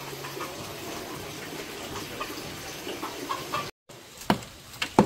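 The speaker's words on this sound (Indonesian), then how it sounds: "Itu juga situ ada ayam juga sih." Chickens on a farm property with fish ponds, heard as a few faint, scattered clucks against steady outdoor background noise and trickling water, with a brief dropout near the end followed by sharper sounds.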